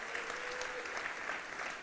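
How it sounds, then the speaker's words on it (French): Church congregation applauding, a steady wash of many hands clapping at a distance, sustained evenly throughout at moderate level. "Est-ce qu'on peut les applaudir bien fort également?"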